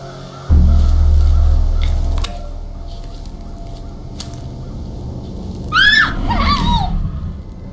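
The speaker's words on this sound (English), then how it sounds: "Rachel, I hope that was a fake scream for their audience" A sharp scream rings out in the Haunted Hotel horror game, a short high wavering cry over a low droning ambience after a heavy thud.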